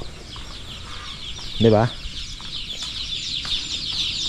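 Chickens and ducks at a backyard farm cluck in a short burst over steady background bird chatter, while a person says a few words nearby.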